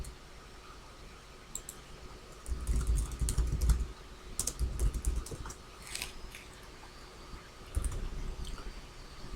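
Typing on a computer keyboard while entering text into a PowerPoint SmartArt graphic, steady bursts of close keystrokes with brief pauses and no talking.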